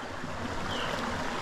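A clear mountain river near Maricao, Puerto Rico, rushes over rocks in a steady, close, broadband wash of flowing water with no voices.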